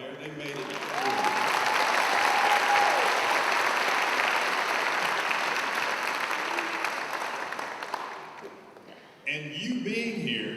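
A crowd at a nurse pinning ceremony for college nursing graduates breaks into loud, sustained applause that fills most of the stretch and then fades, and a voice speaks into a hall microphone at the start and the end.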